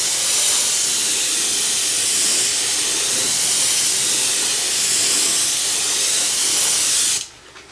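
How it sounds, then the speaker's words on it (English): A steady, loud hiss of an airbrush spraying paint onto lexan continuously up close for several seconds, then cutting off abruptly. "Spraying out fairly well."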